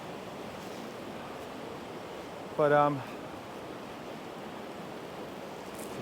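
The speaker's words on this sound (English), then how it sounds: "this water's way too deep and way too quick to cross here" Deep, fast-flowing water too quick to cross rushes past as a broad, constant roar, with a brief spoken voice cutting in midway.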